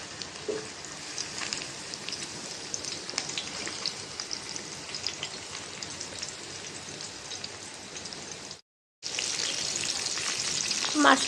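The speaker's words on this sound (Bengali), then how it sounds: "তেলও গরম হয়ে গেছে, মাছটা দিয়ে দিব।" Fish fries in hot oil in a pan, with a dense, continuous close sizzle and crackle that briefly cuts out, then returns louder and brighter.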